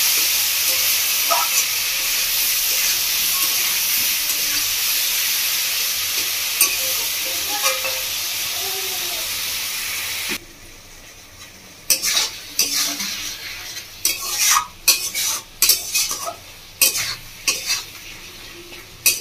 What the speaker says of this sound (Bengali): টমেটোটাকে কষিয়ে নিচ্ছি